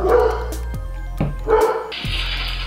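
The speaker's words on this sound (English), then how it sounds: "Dog's going nuts because the delivery guy just dropped off a package." A dog barks loudly and close by at a package delivery, several sharp woofs in quick succession, with a steady hum in the background.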